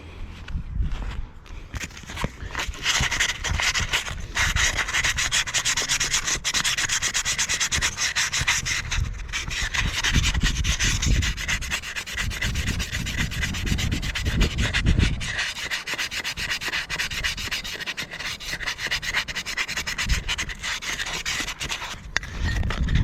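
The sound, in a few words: filing and sanding rusty clutch of Stihl FS130 trimmer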